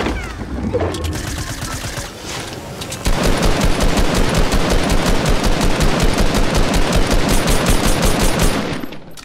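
Video game gunfire crackles in a quick, regular rapid-fire rhythm, loud and close, with a brief lull before a long sustained automatic burst that runs almost to the end.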